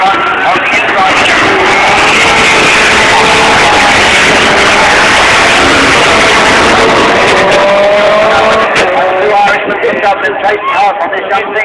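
Race cars power out of the first corner at Lydden Hill, engines loud and continuous with rising and falling revs, tires and exhaust mixing as cars pass close, and a voice talking over the racing noise.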